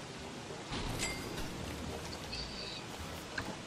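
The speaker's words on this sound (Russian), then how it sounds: "Плюс какой-то, блин, нифига не слабый дождик идет." Steady rain in the game Don't Starve: Hero in the Dark, a soft continuous hiss of falling drops with no voices, holding at an even level throughout.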